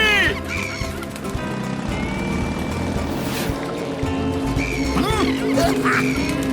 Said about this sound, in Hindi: सीताराम, वो देखो डियर और सुंदर पंछी।